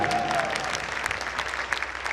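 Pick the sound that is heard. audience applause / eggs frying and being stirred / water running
audience applause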